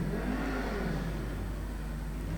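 A Jaguar streetstock race car at a speedway, its engine winding up hard in a sustained high rev, loud and continuous with a slight pitch sweep, other race noise underneath.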